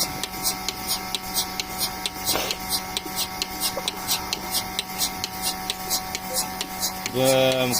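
An automatic milking machine running on a dairy farm, giving a steady, regular pulsing tick over a constant mechanical hum, with a voice breaking in briefly near the end.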